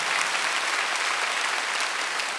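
A church congregation at a Wednesday worship service breaks into steady, full applause, a dense wash of many hands clapping together, loud and sustained with no voices over it.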